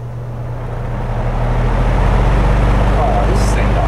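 Lakewood box fan motor running on its high setting, a steady, loud broadband whoosh with a low hum that swells slightly at the start and then holds constant.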